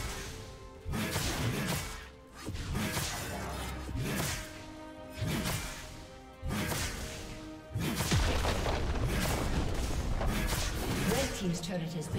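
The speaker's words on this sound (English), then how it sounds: "Red team's turret has been destroyed." Turret destruction in League of Legends during an Aatrox versus K'Sante top-lane match, a series of heavy booms and crashing impacts with sweeping whooshes, loud and repeated, with in-game voice and effects layered over them.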